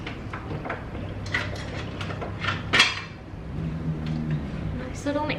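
Kitchen drawer rattling as a mixing spoon is pulled out, with clinking cutlery, knocks and a sliding scrape in a home kitchen during cookie baking, close and moderately loud.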